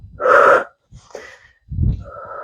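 Forceful breaths during a bodyweight strength workout: a loud, breathy exhale, a pause, a softer puff, then another strong exhale that trails into a steady airy breath, close up with no talking.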